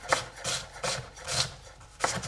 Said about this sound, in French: Ensuite, je vais utiliser un petit peu de chou rouge. Et je le hache bien finement.